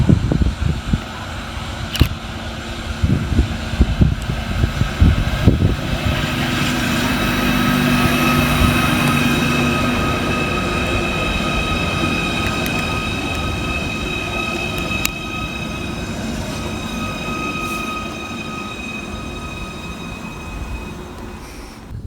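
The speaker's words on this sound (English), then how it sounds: "And coming in the opposite direction is 777-023, working the 1412 Merseyrail electric service from Liverpool Central through to Ellesmere Port." Merseyrail class 777 electric train 777-023 runs into a station, opening with heavy clunks and rail rattle, then a sustained tonal motor whine and rolling hum as it draws in and slows.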